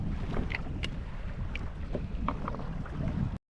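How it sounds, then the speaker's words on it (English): Steady wind buffets the microphone from a kayak on the open ocean near shallow reefs, a constant low rumble with a few faint clicks and splashes, no talking. "it's quite windy here today."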